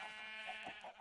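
Sheep in Minecraft bleat in short wavering cries over about a second, clear and close with no talking.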